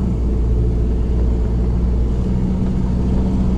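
A car drives along the firm sand of Muriwai beach, following existing tyre tracks, its engine producing a steady, close, loud low rumble with constant road and wind noise and no pauses.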